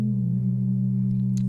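Steady pure sine wave tones, one in the left channel and one in the right, from a Studio H DPO/258e synthesizer module, hold constant pitch throughout, smooth and unwavering, with a faint brief blip near the end.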